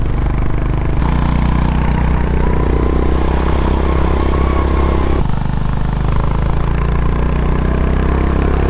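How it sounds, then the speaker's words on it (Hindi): A Honda Transalp motorcycle engine idles steadily up close, a low rumbling throb with light mechanical clatter that shifts slightly in level partway through. "सो मेरे सामने है Honda ट्रांसएल्प, one of my favourite motorcycle"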